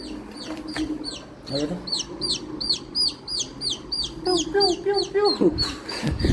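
Hens and chicks in a yard make repeated clucks and high peeping chirps that overlap at close range, with someone speaking over them through much of the clip.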